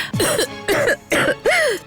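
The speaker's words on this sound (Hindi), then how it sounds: "अचानक से खांसी शुरू हो गई।" Four quick, harsh coughs in a row from one person nearby, each a short rough burst with brief gaps between them.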